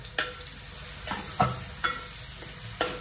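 Onion sautés in a pan for pasta: a steady soft sizzle runs underneath, broken by a few sharp utensil knocks and scrapes as it is stirred, close by, with no voices.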